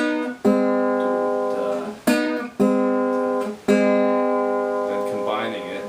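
Treble lead part of a song on acoustic guitar, four bright plucked notes or double stops each left to ring out long, close and clear, at a slow unhurried pace.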